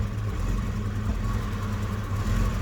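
A UAZ Hunter engine idles unevenly just after a cold start on a mild winter day, a steady low rumble with slight misfiring wobble, heard up close and fairly loud with no one speaking.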